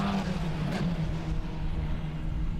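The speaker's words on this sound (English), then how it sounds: "We're getting all the sounds too of the race cars in our broadcast." Formula 4 race car engines roar past at a distance during a championship race, a steady mechanical drone with a brief swell early on, no talking.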